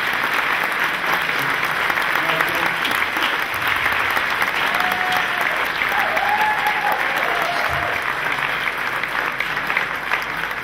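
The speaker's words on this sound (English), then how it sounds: "They applauded you for singing" Sustained, dense applause from an audience at the British Country Music Awards after a singer's performance, steady and fairly loud throughout with faint crowd murmur.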